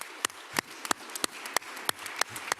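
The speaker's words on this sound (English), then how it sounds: "we can give a big applause to all presenters again" A conference audience at a PFAS pollutants session applauds the presenters with sparse, fairly even claps spaced about a third of a second apart, crisp but modest in volume, like a small room of people clapping.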